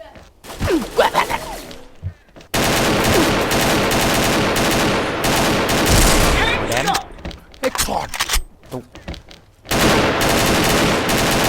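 Gunfire in a video game comes in bursts of rapid shots, dense and loud. Quieter gaps mixed with voices break up the firing.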